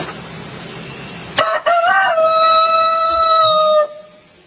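A rooster crows once, loud and close, in a long drawn-out call lasting a couple of seconds after a brief sharp onset, then fades into quiet.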